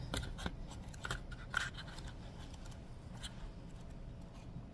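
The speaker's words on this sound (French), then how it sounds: "On va feuilleter un petit peu." Pages of a manga volume flick past in a few quick, soft papery swishes, close and faint against a quiet room background.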